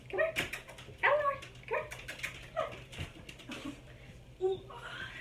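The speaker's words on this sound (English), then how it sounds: "Oh, that's my big puppy." A big puppy whimpers and yips in short high-pitched bursts close by, with a person talking to it in between.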